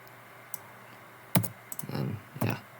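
Computer keyboard keys are pressed while editing video clips in Blender 2.92, a few sharp, close clicks and taps spread across a quiet pause, with one soft tap before them.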